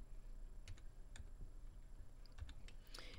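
Numbers are typed on a computer keyboard, soft scattered key clicks in an uneven rhythm against a faint room hum, quiet and close with no talking.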